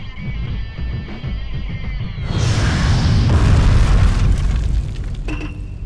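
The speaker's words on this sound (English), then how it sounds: "exploding twice isn't gonna stop Chuck" An explosion in an animated fight between Chuck Norris and Segata Sanshiro rings out after a brief whine, a loud, broad booming blast that rumbles on for a few seconds before easing off.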